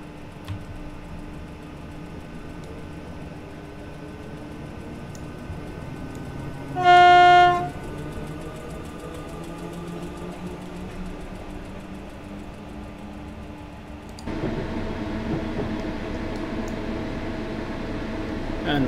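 A Class 456 electric train in Train Simulator 2019 pulls away from a London platform, with a steady low motor rumble, a short loud horn toot near the middle, and the traction noise rising and growing louder toward the end.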